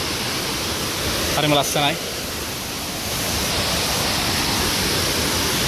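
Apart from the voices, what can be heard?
waterfall at Horton Plains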